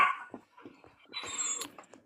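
A puppy bitten on the face by a dog yelps and screams in short, sharp bursts, followed by higher whimpering cries, close and loud.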